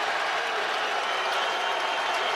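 A dense, loud roar from a college basketball arena crowd in Omaha during a Creighton versus UConn game, with cheering and clapping sustained throughout.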